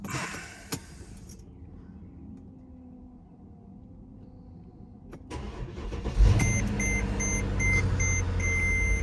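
A Mercedes GL550 (X164) engine cranks, catches and settles into a steady idle close by, with an electronic warning chime beeping at regular intervals after it starts.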